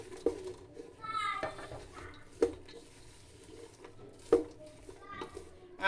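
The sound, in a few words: stirring homemade jaggery popcorn in a pot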